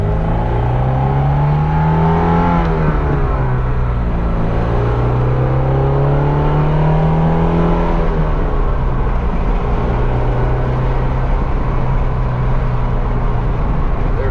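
A 1978 Alfa Romeo GTV transaxle coupe pulls away as the clutch is let out on light throttle, its engine note rising and falling in a steady, close rumble that continues throughout without talk.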